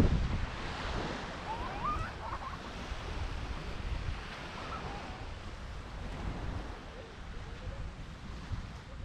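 Ocean waves wash onto a beach in Fukuoka, Japan, a steady rolling surf roar mixed with wind buffeting the microphone and no clear talk.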